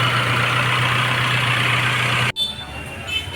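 A Nissan Grandeur engine idles with a steady, loud hum while a new AC compressor is tested, then cuts off abruptly after about two seconds, leaving quieter background.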